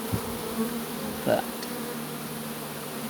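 Honeybees at a hive give off a faint, continuous buzzing with one brief, closer buzz as a bee passes near, against a steady outdoor background.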